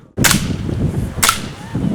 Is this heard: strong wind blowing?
no